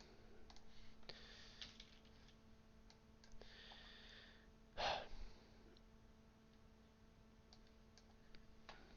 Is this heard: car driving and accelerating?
no